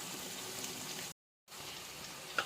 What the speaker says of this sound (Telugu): కొంచెం మనము కొంచెం రెడ్గా వచ్చే వరకు ఫ్రై చేసుకుందాము